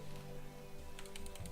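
Several quick, light computer mouse clicks in the second half, close and crisp, over a steady low hum with no talking, while opening Pokemon Trading Card Game Online packs.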